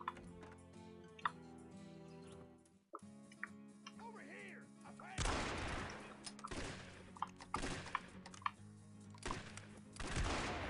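Gunfire in a Western Outlaw: Wanted Dead or Alive boss battle, sharp cracking shots arriving in uneven bursts over game music, with a few isolated clicks before the volley starts.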